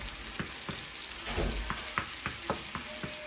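Mushrooms frying in a pan, a soft steady sizzle with faint regular taps and crackles, quiet and close, no voices.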